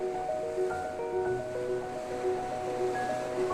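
Ocean waves wash into the circular cliff-ringed cove at Broken Beach in Bali, a continuous rushing surf with wind noise and a faint tonal hum layered over it.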